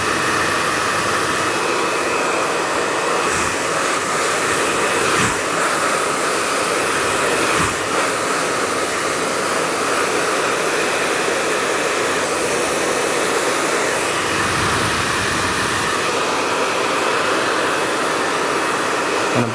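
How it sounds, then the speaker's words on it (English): Hair dryer blowing steadily over a round brush while mid-length hair is straightened and blow-dried: a loud, continuous airy roar with no talk, its pitch shifting slightly as the dryer moves. "the dryer is not right on top of the brush, because the power of the dryer is just pushing the hair onto the brush"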